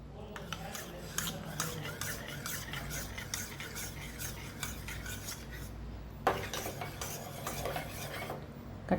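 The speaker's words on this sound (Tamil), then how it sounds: "கட்டி இல்லாமல் கரைச்சிட்டு நம்ம அப்படியே பாலில் சேர்த்துட்டு உடனே நல்லா கலந்து விட்டுடலாம்" A spoon stirs custard powder dissolved in milk with steady, rhythmic scraping strokes against the container, a brief pause, then more quick stirring, fairly close and without talk.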